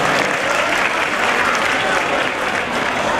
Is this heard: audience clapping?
yes